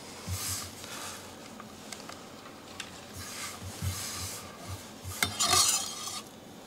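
A knife rough-chops fresh cilantro on a cutting board for a blender marinade for tri-tip, giving scattered soft taps and scraping strokes, close by, with a louder clatter near the end.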